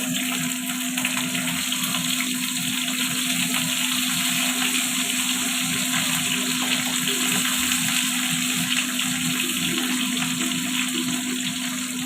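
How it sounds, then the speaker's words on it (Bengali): Pointed gourd (potol) frying in hot oil, a loud, steady, continuous crackling sizzle heard up close, unbroken throughout with a faint background hum. "তেল গরম হয়ে গেছে, পটলগুলো দিয়ে দিচ্ছি"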